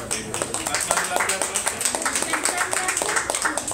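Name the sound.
audience clapping at a kids' birthday magic show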